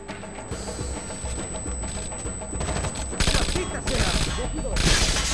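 Bursts of automatic gunfire in Tom Clancy's Rainbow Six Vegas, close and loud, growing heavier toward the end, with spoken voices mixed in among the shots.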